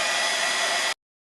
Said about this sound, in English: So I'm just going to go ahead and hit it with the heat tool.